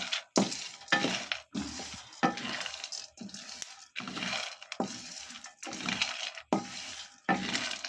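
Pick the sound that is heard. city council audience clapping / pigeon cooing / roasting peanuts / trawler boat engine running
roasting peanuts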